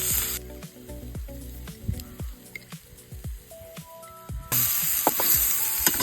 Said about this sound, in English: cook the onions and the